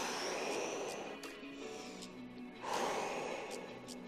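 A deep inhale and breathy exhale during a child's-pose stretch in a resistance stretching workout, heard as close, soft, airy breaths over a steady room hiss.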